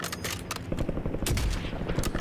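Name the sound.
gunfire in the video game Warzone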